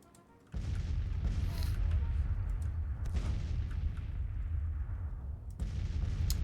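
Continuous musket and artillery fire in the Civil War strategy game Grand Tactician, at the Battle of Nashville, starting abruptly as a dense roar of overlapping shots and booms that lasts through the clip, with a voice speaking at times.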